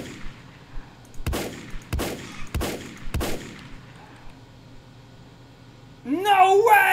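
Gunfire in the video game God Hunter: four sharp, evenly spaced shots ringing out with short decays, followed by a burst of warbling game effects at the end.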